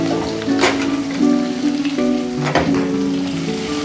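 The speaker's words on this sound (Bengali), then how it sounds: "তারপর আমি পেঁয়াজ কুচি দিয়ে দেব" Chopped onions frying in hot oil with bay leaf and cumin make a steady crackling sizzle, close and continuous, under faint tonal background sounds.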